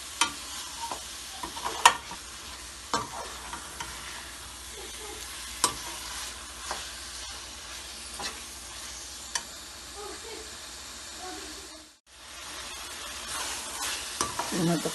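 Minced meat with potatoes frying in a pan, a soft continuous sizzle with occasional sharp clicks and spatula taps, fairly quiet and close, with one brief dropout near the end.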